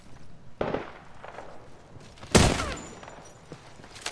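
Gunfire in the video game Apex Legends: a couple of sharp, loud cracking bursts with softer shots between them, close and punchy against a low game background.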